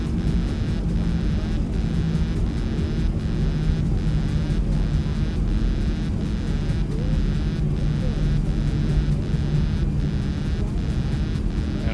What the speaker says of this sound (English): Finally, my reverse thrusters.